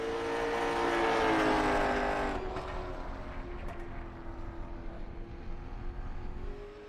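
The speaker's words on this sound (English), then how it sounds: "Here comes Colin McDonough in car 39." A race car, number 39, runs on track at a derby race, its engine roaring loudly as it passes close by, then its droning tone fades into the distance.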